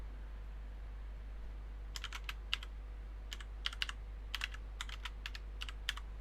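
Someone types a search on a computer keyboard in a quiet room under a low steady hum, giving a few short bursts of crisp, close key clicks with small pauses between them.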